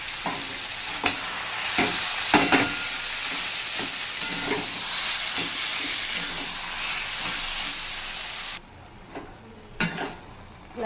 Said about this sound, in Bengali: দেখো কচুর শাকটা নেড়ে চেড়ে দিলাম